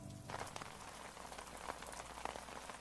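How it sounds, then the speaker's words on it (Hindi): Steady rain falls in a dense hiss of close raindrops hitting surfaces, fairly faint overall, with a few sharper drips standing out and no voices. "आज बारिश रुकने का नाम ही नहीं ले रही थी।"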